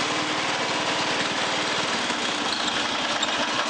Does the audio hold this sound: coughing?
no